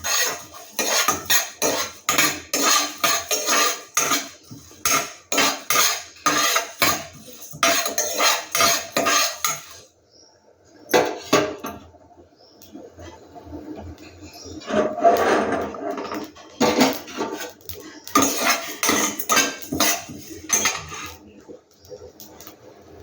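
Coriander seeds and cumin dry-roasting in a pan with no oil, a busy rattling and scraping of seeds stirred against metal in rapid repeated bursts, pausing briefly before resuming.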